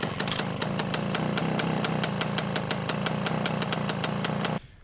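Steady, loud running of a 1975 Suzuki TC-185 Ranger motorcycle engine with a rough, throbbing note and rapid regular ticking on top, held level for about four and a half seconds before cutting off abruptly.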